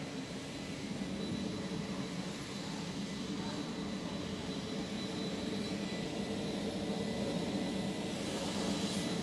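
Turboprop engines of a C-130 military transport aircraft drone steadily inside the cabin, a loud continuous roar with a faint high whine holding evenly throughout.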